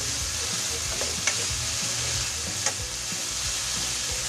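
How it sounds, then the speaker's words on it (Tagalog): Potatoes and carrots fry in a pan, a steady close sizzle with a few light clinks of stirring, at a roadside cooking spot with faint street noise behind. "Pag naprito na po ang ating patatas at carrots, ilalagay na po natin ang ating giniling."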